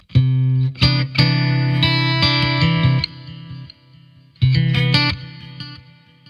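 Strummed acoustic guitar chords through a simple delay effect on a Line 6 POD GO ring out in bursts, each followed by repeating echoes that trail off into a soft ambient wash.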